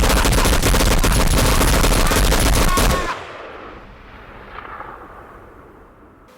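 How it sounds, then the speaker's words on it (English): A Gatling gun firing in the film Tremors 4, a loud, continuous roar of rapid shots lasting about three seconds, then cutting off into a fading echo and quiet rumble. "Gummer marries Christine, she buys him a Gatling gun, and the two live knee-deep in brass ever after"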